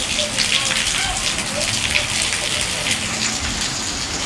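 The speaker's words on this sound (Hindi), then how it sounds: "हम ना पता टीन के नीचे बैठे हुए थे कि बारिश हो रही थी तेज" Heavy rain pounds steadily on a tin roof, a dense, close, continuous hiss and patter that holds at an even loudness throughout.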